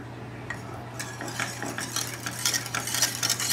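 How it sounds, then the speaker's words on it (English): A spoon stirs simmering chopped fresh spinach in a pot for a spinach and cheese soufflé, several quick scraping strokes over a steady low hum, close and clear. "And every few minutes, just give it a stir."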